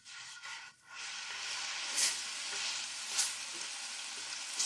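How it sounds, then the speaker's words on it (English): Pork shogayaki simmering in its ginger sauce in a pan, a steady close sizzle with soft stirring and a few brief hissing bursts as the meat is turned to coat it. "Mix well so that the sauce coats all the meat"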